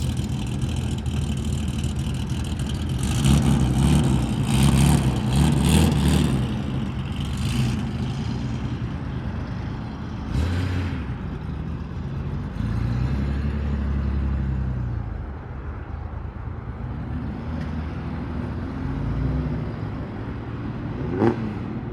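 Japanese cars idle and drive through the Daikoku parking area, including a Toyota Mark II and Chaser, with a steady engine rumble, revs swelling around the middle and a passing car near the end.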